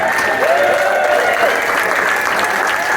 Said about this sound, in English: you got the best applause ever